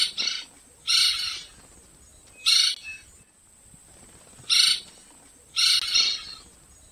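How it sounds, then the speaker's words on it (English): A woodpecker gives five harsh, high calls in separate bursts about a second apart, clear and close against a quiet background. "Woodpecker."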